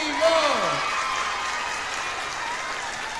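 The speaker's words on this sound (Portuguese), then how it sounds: "Obrigado pelas palmas e ovações" Sustained applause and cheering from a crowd at a live Catholic music show, a broad wash of clapping with a voice briefly calling out over it near the start.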